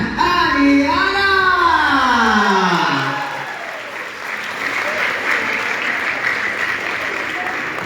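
Applause rises from a gala audience for a red carpet walk, a broad steady patter of clapping that takes over as an amplified announcer's voice fades out at the start.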